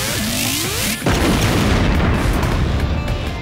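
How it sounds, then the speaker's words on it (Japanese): A stage explosion effect during a live Jujutsu Kaisen theater production: a loud deep boom bursts in suddenly after a rising whoosh, then a sustained roaring rumble fills the rest. "音と爆発の二段構え、器用だね。"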